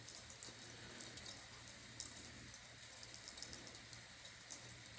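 Rain falls outdoors in a faint, steady hiss with scattered soft drop ticks, even and continuous throughout and without any voices.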